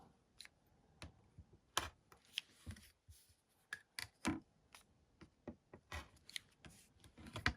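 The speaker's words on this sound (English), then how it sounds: "I'm just trimming these last little ones over here." Scissors trim small quilt fabric pieces with a quick series of crisp snips and clicks, irregularly spaced and close but quiet, with no one talking.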